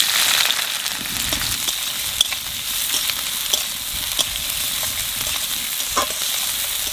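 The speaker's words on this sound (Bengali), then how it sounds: "পেঁয়াজটা একটু ভাজে নিচ্ছি" Onions frying in a pan with five-spice, a continuous loud sizzle with scattered crackles and occasional stirring clicks, close up with no talk.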